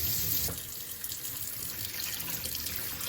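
Tap water runs steadily into a sink or basin to make a white vinegar soak for a barbecue grill grate, a close, continuous gushing wash that dips slightly after the first half second, with no voices.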